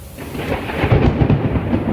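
Thunder from a Florida storm rolls on as a loud, sustained rumble under steady rain, with no one speaking.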